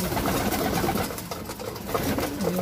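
Pigeons gathered at a feeding bowl coo in low, overlapping murmurs at close range, with a busy textured background throughout.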